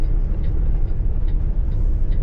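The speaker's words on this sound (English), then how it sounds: "This car right here is flying." A car speeds past on an Arizona road, heard as a steady low rumble of traffic and road noise from inside a 2019 Kenworth T680 truck, with no voices.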